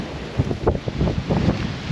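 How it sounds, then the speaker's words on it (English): Strong gust of hurricane wind at a Florida beach during Hurricane Nicole, buffeting the microphone in rough, surging bursts over a constant rushing background. "Looks like we're about to have a big gust that's coming up here in just a second."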